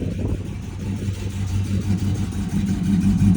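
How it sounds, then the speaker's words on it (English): A 1984 Buick Regal with an LS engine swap and mild cam runs steadily, its deep low rumble loping and close throughout, with a possible exhaust leak at the passenger-side front headers. "I think I got an exhaust leak up here."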